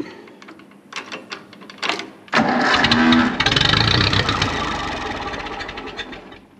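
A grey Ferguson tractor engine cranks with several uneven starter turns, then catches and runs loud and steady close by, settling into a continuous rumbling idle.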